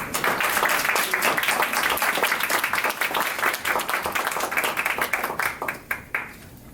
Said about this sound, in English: Let's give our special guest a big round of applause.